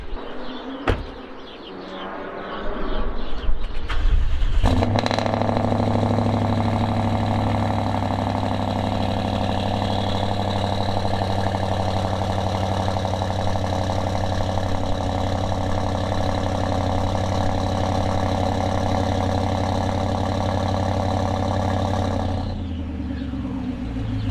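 A BMW X5 engine cranks and catches, then settles into a steady, rumbling idle for about twenty seconds before cutting off.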